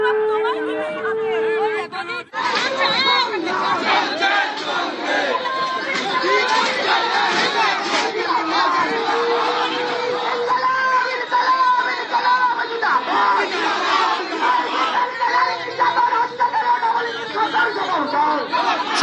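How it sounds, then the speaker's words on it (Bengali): Protesting left-wing activists chant slogans demanding answers in front of a police station over the Baruipur incident, a loud, continuous crowd of shouting voices rising and falling in rhythmic chants throughout. "তারা স্লোগান দিচ্ছেন যে অপরাধীরা এখনো পর্যন্ত শাস্তি পেল না কেন, জবাব তোমায় দিতেই হবে।"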